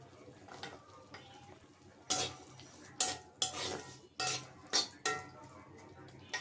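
Spice paste (masala) being stirred and fried in a pan for an egg and cauliflower curry, with a spoon scraping and clinking against the pan in repeated loud strokes over a soft sizzle.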